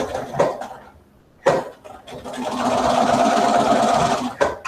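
A sewing machine runs a seam on a T-shirt, a close, rapid mechanical stitching whir for a couple of seconds after brief clatters and handling noises.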